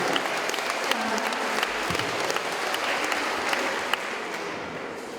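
Audience applause for dancers at a school talent show, a steady, dense wash of clapping from a crowd that stays even and fairly loud throughout.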